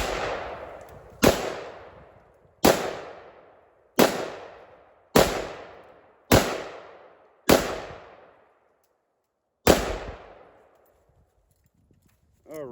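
A Polish variant AK-47 rifle fires single shots at a silhouette target at moderate distance outdoors on a ranch: eight loud, sharp cracks spaced about a second or two apart, each with a decaying echo, and a brief voice at the end.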